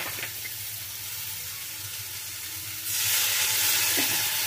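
Cut vegetables, with cauliflower among them, fry in a pan with a spoonful of water added. A steady close sizzle runs throughout and swells louder and hissier partway through as the water hits the hot pan.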